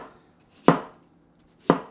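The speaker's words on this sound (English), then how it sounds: "you're gonna be making chops along angles on the onion" Two sharp, separate knife chops through an onion on a cutting board, each a crisp thud with a brief bright edge, spaced about a second apart with quiet between.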